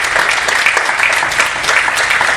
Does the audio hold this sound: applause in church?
yes